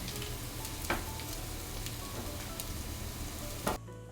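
Chicken tsukune meatballs grill in a pan with a dense, continuous sizzle, two sharp clicks of a utensil cutting through, and an abrupt stop just before the end.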